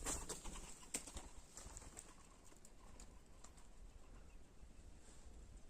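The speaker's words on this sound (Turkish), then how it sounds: "Bunun kanat sesi gerçekten bu diğer güvercinlerin iki katı" Faint, rapid flutters of mountain pigeon wings in the open countryside near a village, with soft cooing and outdoor ambience underneath.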